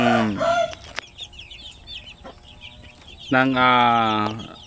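Shamo Aseel chicken chicks cluck and cheep in short bursts, with a louder burst near the end, close by and alone.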